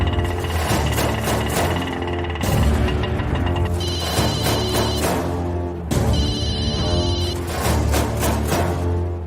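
A telephone rings with an incoming call, its electronic ringtone repeating loudly in bursts across several cycles, close by and alone without speech.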